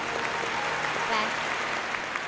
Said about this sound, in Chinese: 掌声送给小伙子